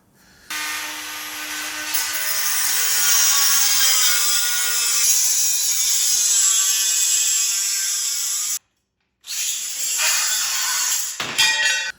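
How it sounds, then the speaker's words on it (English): A small handheld grinder saw cuts through a 10-foot length of steel unistrut channel, a loud sustained high-pitched whine with shifting pitch, a brief pause, then another short cut ending with clanks. "I bought a 10-foot piece, and using my little handy dandy grinder saw,"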